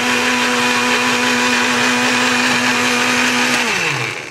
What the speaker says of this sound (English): take the whole can, dump it right into your blender, peaches, syrup, and all